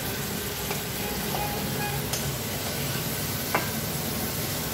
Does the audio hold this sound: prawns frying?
yes